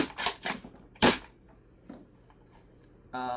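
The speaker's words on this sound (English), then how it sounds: "you can then fire a foam dart" A Worker Harrier Nerf blaster is primed and fires a foam dart: a few sharp mechanical clacks and a snappy pop, close and loud, followed by fainter clicks before a voice begins at the end.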